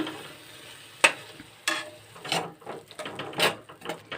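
A spinach and potato curry with garam masala and green chillies is stirred in a pan, giving irregular scraping spatula strokes over a faint, close sizzle.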